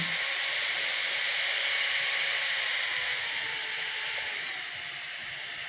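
A new electric nail drill runs steadily with a high whine, loud and continuous, easing slightly lower in pitch near the end, with no talking over it.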